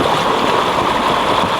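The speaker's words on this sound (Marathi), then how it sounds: "हा ढिगारा पावसाच्या पाण्याने वाहून जात आहे" Rainwater rushes over landslide debris on a road through the Dudhivare pass in Maval, near Pune, giving a loud, steady roar of flowing water with no break and no voices.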